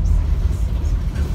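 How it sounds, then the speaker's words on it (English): Steady low rumble of a moving bus heard from inside the cabin, a continuous engine and road drone with slight swells, no voices. "I'm on the bus right now"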